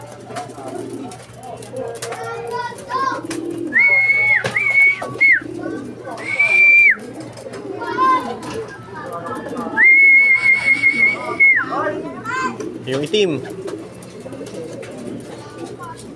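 Racing pigeons arrive at a home loft in Calamba, Laguna, during a 53 km club training flight, cooing in short bursts alongside shrill whistle tones while people talk nearby throughout.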